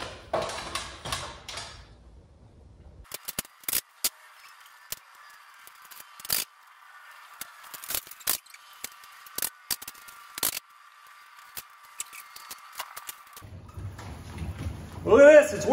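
Hand crank turning to raise or lower a golf simulator impact screen, heard as a steady mechanical whir with repeated sharp clicks and ratchet ticks over several seconds, fairly close, with brief talk before and after.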